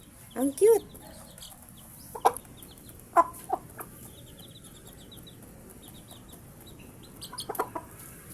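A mother hen with week-old chicks clucks in short bursts while being fed, a few close, distinct calls near the start and middle, then quieter clucks toward the end against low background noise.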